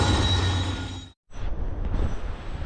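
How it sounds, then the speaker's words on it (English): A long train passing on a railroad near the coal town of O'Keefe, West Virginia, a loud close continuous rumble of cars and wheels with a brief dropout, faint squeal at the end. "So yeah, train's still going."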